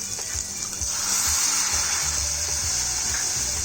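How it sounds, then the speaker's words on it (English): Milk is poured into a pan holding a cooked garlic and flour mixture, giving a steady, close liquid pouring and splashing sound that runs continuously without talk. "Let's add in milk"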